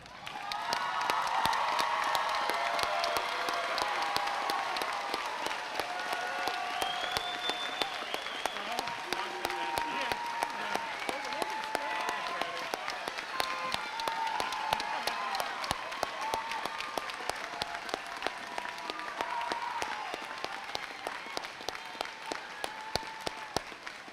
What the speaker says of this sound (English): Ladies and gentlemen, let us stand and applaud the graduates.